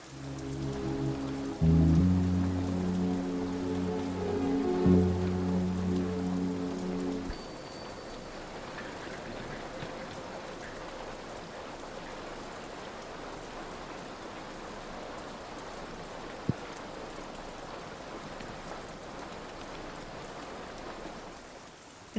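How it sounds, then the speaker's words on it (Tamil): Rain falls steadily outdoors at night, a continuous even hiss that follows a brief stretch of musical tones at the start and holds on alone. "வெளியில மழை பெஞ்சிட்டு இருக்கு."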